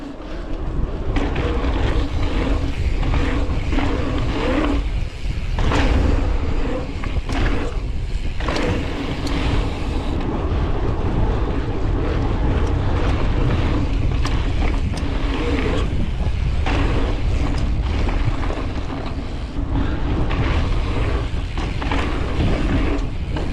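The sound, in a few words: BMX bike riding a lap of the track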